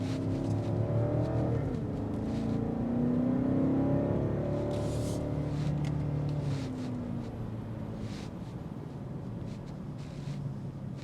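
A 2026 BMW X6 M60i engine on a test drive, a continuous interior drone that rises and falls through gear changes with rushing road and wind noise, steady and moderately loud.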